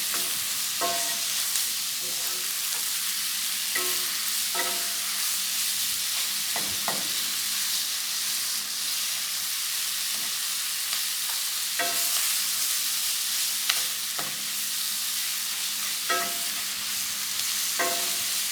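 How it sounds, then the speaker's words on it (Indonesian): Meat sizzles steadily in a hot pan while being stir-fried, a constant close hiss broken by repeated scrapes and clinks of a utensil against the pan, with no one talking. "Tumis sampai dagingnya udah matang baru masukin."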